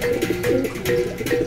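Racing pigeons in a loft make close, throaty coos in quick repeated rolls, loud and clear with no talk over them.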